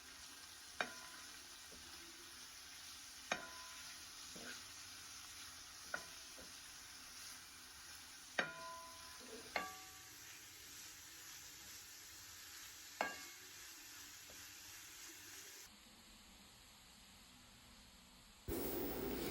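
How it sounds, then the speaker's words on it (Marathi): Two finely chopped onions sautéing in a pan on a griddle for an Agri-Koli style shrimp fry, a steady soft sizzle broken by a few sharp spatula clicks and scrapes, with no talk. "दोन बारीक चिरलेले कांदे टाकून घ्यायचे आहेत आणि कांदा थोडा लालसर येईपर्यंत परतून घ्यायचा आहे"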